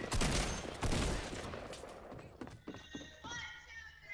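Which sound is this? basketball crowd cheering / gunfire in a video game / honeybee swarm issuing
gunfire in a video game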